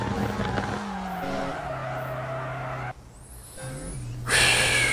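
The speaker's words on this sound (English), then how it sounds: "So this whole game is just an epic drifting montage." Tires squeal and an engine whines as a car drifts in the mobile racing game FR Legends, with sliding screeches, a brief lull near the middle, then a loud surge of engine and tire noise at the end.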